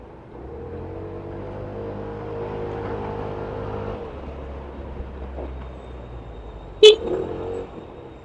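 Steady city traffic rumble with passing engines, recorded from a motorcycle, a low droning hum, and a sharp short horn toot near the end.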